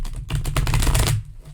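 Playing cards riffle-shuffled in a quick burst of dense flapping clicks lasting about a second, close and fairly loud, with no one talking.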